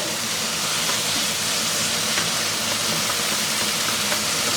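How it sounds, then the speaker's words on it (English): Chopped onions sizzle in a hot cooking pan as taco filling is stirred, making a loud, steady hiss throughout. "We'll start with the onions. We'll just put all of those in there. And stir those in there pretty good."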